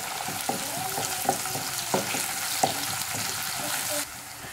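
Spring onion whites go into a hot frying pan for restaurant-style chilli chicken, a continuous sizzle broken by several sharp clinks of a spatula against the pan.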